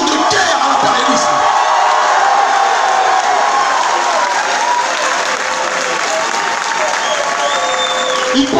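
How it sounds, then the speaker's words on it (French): Loud, continuous audience applause at a political conference, heavy clapping mixed with cheers and whoops from a large crowd, holding steady throughout. "de vous applaudir profondément parce que votre mobilisation est une déclaration de guerre à l'impérialisme"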